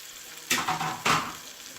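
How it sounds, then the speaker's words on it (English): Meat for a Southern pot roast is flipped and browned in a hot pan, giving two quick bursts of close sizzling that flare up and settle. "We're going to brown this side again."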